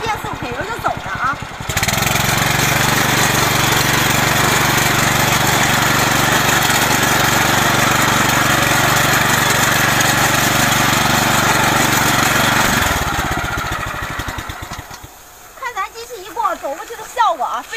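A ZYK 4-stroke 9 hp petrol tiller fitted with a weeding blade bursts into a loud, steady roar that holds for about eleven seconds before winding down. Quieter mechanical clatter follows at the end.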